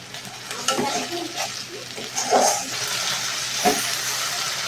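Mustard and poppy seed paste frying in hilsa oil, stirred with short scraping strokes over a steady sizzle, with a few louder bursts of spatter.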